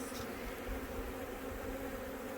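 Honeybees hum in a faint, continuous drone during a nuc transfer into a new hive box, a soft swarm buzz with no speech.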